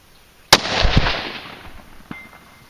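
A Ruger American rifle in 6.5 Creedmoor fires a new load: one sharp, loud shot with a rolling echo that decays over a second, followed by a fainter click or pop.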